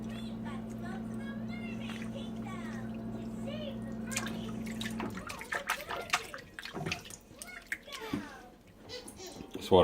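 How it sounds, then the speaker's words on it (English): Cold tap water runs steadily while razor clams are rinsed and cleaned under it, a low continuous stream for several seconds that then breaks into splashes and handling noises, with a voice talking over it. "I like to have running water handy"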